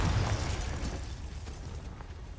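A Confringo blasting spell bursts in Hogwarts Legacy, a single loud, broad blast at the start that rolls off into a fading rumble.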